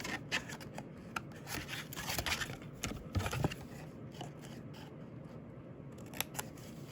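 Paper being cut with scissors for a handmade box, a run of crisp snipping and rustling strokes close by, quiet, with no talk.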